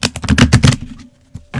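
Quick riffling bursts of cards being shuffled for under a second, a rapid papery flutter followed by a short pause and one more brief riffle.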